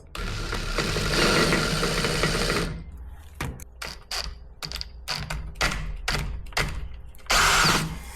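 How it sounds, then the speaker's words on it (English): A power drill running in reverse whirs loudly for a few seconds while removing rear brake parts on an Acura RL, then runs in short repeated bursts with pauses between, ending with one more brief spin. "the drill has to be in reverse"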